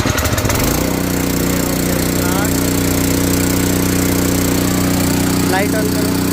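A petrol power weeder engine runs loud and close with a steady, throbbing drone and a slight rise in pitch as the throttle is eased up.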